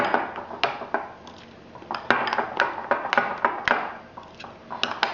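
A spoon stirs pink food colouring through Battenberg cake batter in a mixing bowl, giving close, repeated scraping clinks against the bowl in an uneven rhythm, with no talking.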